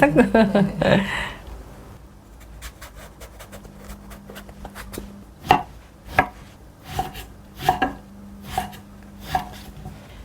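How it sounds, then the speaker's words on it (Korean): A knife chops eggplant into finger-sized strips on a cutting board in a series of sharp, evenly spaced thunks after a brief burst of talking at the start. "가지를 이제 길쭉하게 썰어갖고 손가락 크기로 썰어주시면 됩니다"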